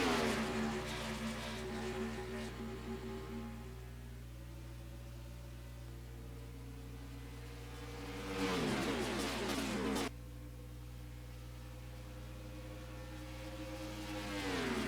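Stock cars racing at Las Vegas in the NASCAR Racing 2003 game: a pack of engines drones and whines steadily, with pitch sweeping as cars pass close, two louder rushing passes standing out, no talk.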